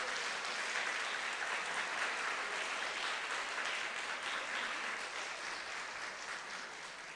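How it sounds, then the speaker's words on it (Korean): Sustained applause from a church congregation for students at a guest sermon, dense and steady clapping filling the room throughout, gradually easing slightly toward the end, with no talking over it. "다시 한번 우리 박수로 축복합니다"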